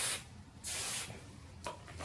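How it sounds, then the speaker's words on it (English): Light hairspray sprayed onto a section of hair, two distinct hissing bursts with a short third puff at the end, close and fairly quiet, no talking. "I'm going to spray it with some light hairspray."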